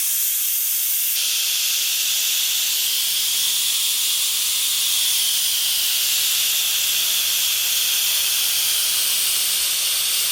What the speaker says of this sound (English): I'm going to go ahead and quick pressure release